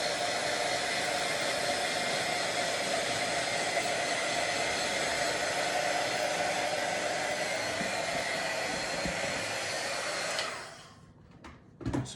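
A hair dryer blows steadily to heat polish on boots, a loud constant roar held for about ten seconds before it is switched off.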